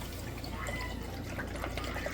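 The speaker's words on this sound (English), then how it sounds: "we're gonna throw a bottle of water off in this skillet here" Bottled water is poured into a skillet to start a quick sauce for chili relleno, a continuous close splashing, gurgling rush that holds steady for a couple of seconds with no talking.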